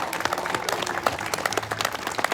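A burst of applause, many hands clapping steadily and densely for a couple of seconds, fairly close and lively.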